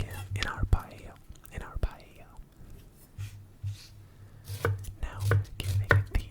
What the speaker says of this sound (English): Now, giving the onion some slices, making sure not to slice all the way through the onion